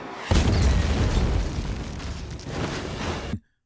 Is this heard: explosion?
yes